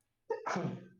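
A single sharp human sneeze, close and fairly loud, with a quick intake followed by a burst that fades out within a second, heard during a tabletop role-playing game session.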